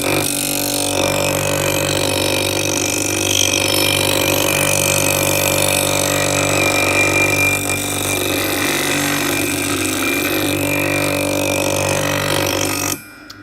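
A Robland X31 planer blade ground on a grinding wheel gives a steady, loud, dense grinding whine with a constant motor hum, continuous for the whole stretch before stopping abruptly at the end.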